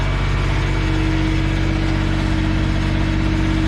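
Idling engine of a firewood processor running slowly while its splitting ram operates, a steady loud low drone with a constant hum throughout, no talking.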